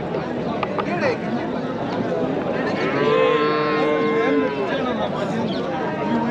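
Cattle low and moo at a busy cow market in Chintamani, the calls rising over steady crowd chatter and nearby voices.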